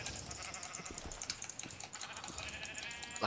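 Sheep bleating in a Minecraft-style video game, with a few short bleats over dense keyboard and mouse clicking.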